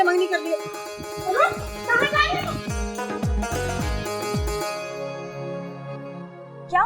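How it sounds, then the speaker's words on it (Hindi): A dog barks several times in quick succession while chasing someone, close and sharp, mixed with music and a voice. "वो मेरे पीछे कुत्ता पड़ गया था"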